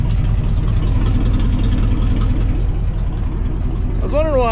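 A car with a loose, dangling exhaust runs loud with a heavy, rumbling, uneven idle close up, and a voice breaks in near the end.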